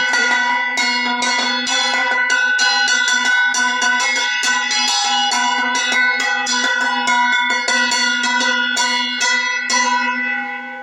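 A hand bell rung during a home puja, rapid continuous metallic ringing with bright overlapping strokes, close and loud, fading slightly at the end.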